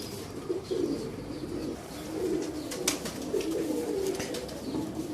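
Golden pigeons coo in low, soft, rolling calls repeated throughout, close by, over a faint background hiss with a few light ticks and rustles.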